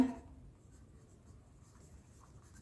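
Faint, soft scratching of writing on a board during a maths lesson, a short stroke at the start followed by quiet continuous scraping in a hushed room.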